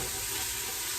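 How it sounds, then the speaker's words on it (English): Apples being stirred in melted butter with a wooden spoon, giving a steady close sizzle with faint scraping and no pauses, no voices. "Give this a stir and get these apples coated with that butter."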